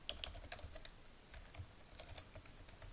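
Quick, irregular keystrokes on a computer keyboard while someone enters a website address, a steady patter of light clicks with short pauses between bursts, close and moderately quiet, with no one talking.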